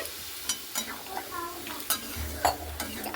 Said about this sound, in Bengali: এখানে আমি আলু আর কাঁঠালটাকে কিন্তু খুব ভালো মতো করে একটু নাড়াচাড়া করে নিলাম জলটা দিয়ে